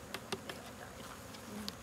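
Honeybees trapped in an alcohol wash jar give a faint, steady buzz during a September hive inspection, broken by a few sharp knocks and rattles as the jar is shaken hard.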